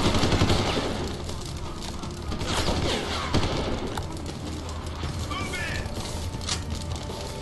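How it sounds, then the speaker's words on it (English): Enemy gunfire in Deus Ex: Human Revolution, with dense bursts and crashing impacts that run almost continuously under a steady bed of game noise. No one speaks during it. "He's firing at me, fucker."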